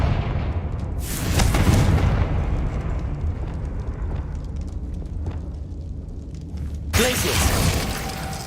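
A Confringo fire spell in Hogwarts Legacy bursts loudly with a broad blast around one second, rumbles on, then a second burst hits near the seven-second mark.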